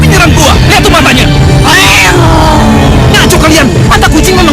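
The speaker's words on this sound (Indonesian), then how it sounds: "Lihat, itu kucing yang gue tabrak tadi." A black cat meows loudly and repeatedly, drawn-out wailing cries that rise and fall, very close and heavy, amid a busy, noisy scene with voices in the background.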